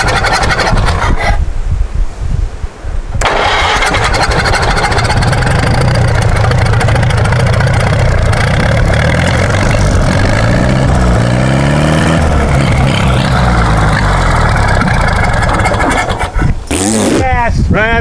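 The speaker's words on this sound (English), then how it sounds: "Ran out of gas, but it runs." An old barn-find tractor engine cranks, catches and runs at a loud, uneven chug that rises and falls, with people talking under the noise.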